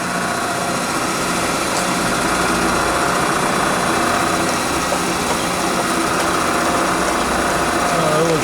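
Metal lathe spinning at 2,000 RPM while taking a light cut on a tailstock part, a steady continuous whine and hum holding evenly throughout, close and moderately loud.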